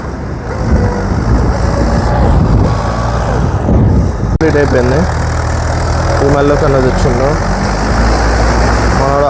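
A tractor engine rumbles steadily throughout, close and loud, while people talk over it.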